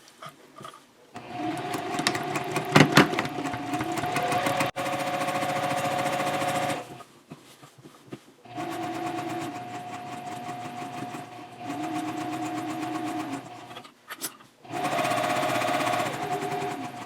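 A sewing machine stitches a fabric eco-friendly shopping bag in several bursts of steady whirring, each lasting a few seconds and separated by short pauses, close and fairly quiet.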